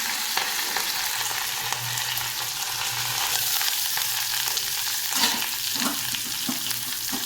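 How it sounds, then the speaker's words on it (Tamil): Onions fry in a pan while being stirred, a dense steady sizzle close up with occasional scraping and clinking of the spoon, no voices. "வெங்காயம் ஆட் பண்ணிவிட்டு நல்லா வதக்கி விட்டுக்கோங்க."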